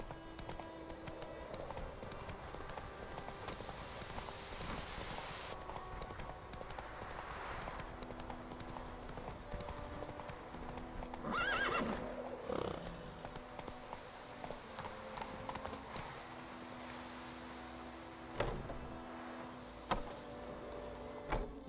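Roach, a horse in The Witcher 3, runs with a steady clip-clop of hooves over a busy game soundscape, with a louder swell partway through and a few sharp knocks near the end.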